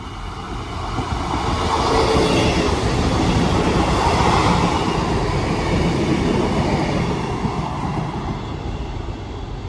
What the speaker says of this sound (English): Train now passing through is a double 158